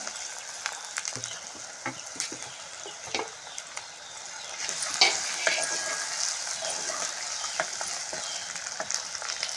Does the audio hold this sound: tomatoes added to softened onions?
yes